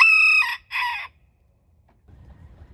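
Crossbred backyard chickens call out nearby, with a loud two-part squawking cry at the start, then silence, then faint low rustling and scratching.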